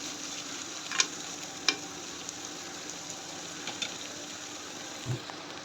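Tomatoes and green chilies stir-fry in a pan with a soft, steady sizzle, broken by a few light clicks and scrapes of a spatula mixing them, quiet and close with no talking.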